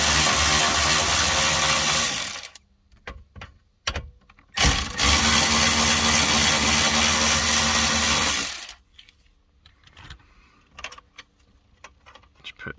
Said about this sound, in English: Now we're going to undo the 7mm bolts on the top, again using the battery ratchet.